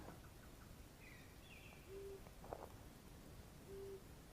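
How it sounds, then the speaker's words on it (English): Outdoors in Scott Creek Conservation Park, a wood pigeon gives two short, soft hooting coos a couple of seconds apart, faint and distant over a constant hiss of background noise. "That's a wood pigeon."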